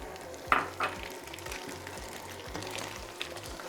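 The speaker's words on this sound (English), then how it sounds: "Add in our second egg." An egg going into brown sugar chocolate chip cookie dough and being mixed in: a sharp knock near the start, then soft wet, rhythmic churning and clicks up close, no voices.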